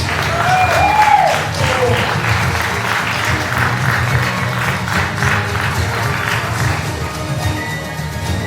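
Sustained audience applause fills a comedy mentalist show in a speakeasy-style venue: dense, steady clapping from a full room that carries on for several seconds and slowly eases off, with a brief whistle near the start.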